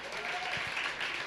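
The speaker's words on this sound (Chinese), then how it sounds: "给站起来的人掌声一下" A church congregation at a joint Sunday worship service gives a short burst of applause, a quiet, steady patter of many hands heard from a distance.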